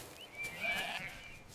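A single faint sheep bleat in a farm enclosure rises and fades over about a second against quiet background noise.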